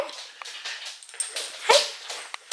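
A Fox Terrier puppy whimpers and yips in short, high-pitched bursts, close by, with a few sharper squeaky cries mixed in.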